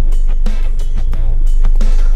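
Loud, continuous rumbling rattle inside a Mercedes W124 coupe with worn engine mounts, the seat shaking and buzzing against a steady low engine drone, with irregular knocks throughout.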